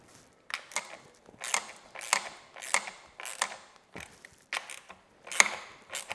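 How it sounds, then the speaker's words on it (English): A socket ratchet tightens the mudguard bolts on a 10Ten 250RX 250cc dirt bike, close, quiet bursts of rapid clicking ratchet strokes with short pauses between them, no talk. "Use an 8th socket, tighten the 4 mudguard bolts up."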